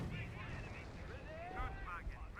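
Autocannon fire and a tank hit in the Company of Heroes strategy game: a dense, steady wash of distant battle noise with rattling bursts, heard under voice commentary.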